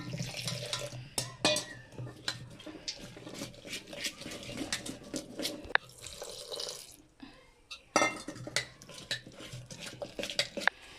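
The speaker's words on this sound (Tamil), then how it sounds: "இப்போ கடல மாவுக்கு இன்னும் அற பாருங்கள் அறாவது தண்ணி ஊற்றி குழப்பிக்கலாம் கலந்துக்கிறேன்" Gram flour batter being mixed in a bowl as water is poured in, with soft stirring, scraping and clinking of utensil against the vessel, steady through the clip with a brief quieter pause.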